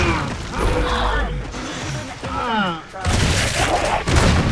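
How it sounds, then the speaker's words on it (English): Mortar fire in the Battlefield trenches video game: explosive booms and crashing impacts mixed with mechanical rattles, heard under overlapping player voices. "Watch the mortar."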